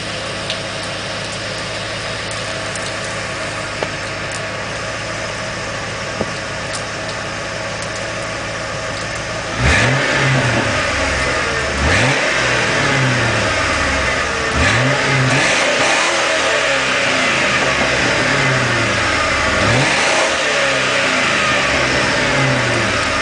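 Ford Crown Victoria Police Interceptor V8 idling steadily from behind the car, then revved hard several times in rising, loud bursts that settle back to a rumbling idle.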